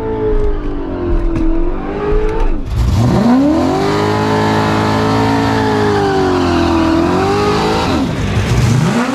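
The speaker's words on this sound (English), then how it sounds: "The Nitrous Foxbody in the right lane versus Andrew with the Tesla Plaid channel." A nitrous-fed Foxbody car revs hard at a drag race, its engine roaring loud and close, winding up in long sustained pulls with a brief dip between them.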